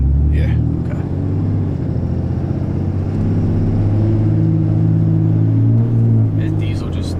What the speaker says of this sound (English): This diesel just loves it, man. This engine pulls so strong.